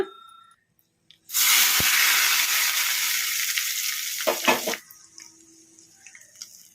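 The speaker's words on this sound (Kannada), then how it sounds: "ಸ್ಟವ್ ಆಫ್ ಮಾಡಿಕೊಂಡು ಚಟ್ನಿಗೆ ಒಗ್ಗರಣೆ ಹಾಕ್ಕೊಂಬಿಡೋಣ" A sudden, loud sizzle bursts out as hot tempering is poured into fenugreek-leaf tomato chutney, hissing steadily for several seconds before fading into quieter crackles.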